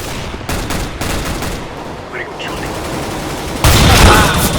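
Rapid, loud gunfire bursts from the video game Counter-Strike: Global Offensive, sustained and dense with a heavier volley near the end, while players talk excitedly over it.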